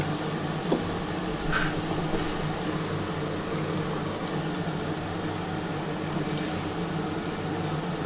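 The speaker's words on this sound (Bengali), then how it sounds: "যে মশলার জলটা আছে এই জলটা দিয়ে দিচ্ছি" Spiced water for mustard hilsa bhapa is poured into a hot karai, giving a steady broadband sizzle and hiss with a watery, boiling texture that holds evenly for several seconds, with no talking.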